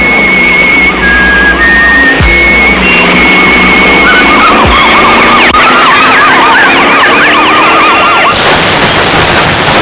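Car arriving at speed in a film scene, very loud with sirens wailing and tires skidding, dense overlapping engine and swerving noise throughout.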